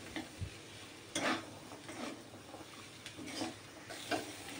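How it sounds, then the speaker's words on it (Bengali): A chicken and chickpea curry is stirred in a pan, giving intermittent scraping and tapping strokes against the metal with a faint sizzle underneath, close by and without talk. "তো আমি এখন নাড়াচাড়া করে একটু রান্না করে নামিয়ে নেব"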